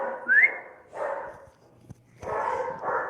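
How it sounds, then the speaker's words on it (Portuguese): Dogs bark in short bursts during an indoor interview, several loud barks and yips separated by brief pauses, with a sharp whistle-like yelp near the start. "quero pedir desculpa aqui porque os cachorros começaram a latir"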